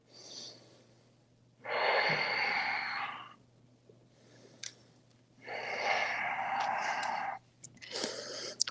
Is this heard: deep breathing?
yes